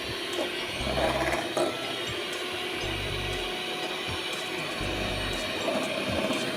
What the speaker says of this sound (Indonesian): ini kita mixer menggunakan kecepatan rendah hingga putih telurnya berbuih kecil-kecil.